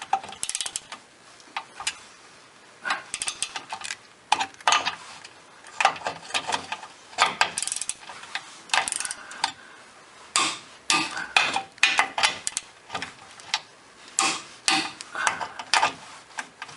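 A torque wrench clicks and ratchets in bursts while tightening the bottom engine mount bolt on a Ford Contour, giving close, sharp irregular ticks against a quiet background.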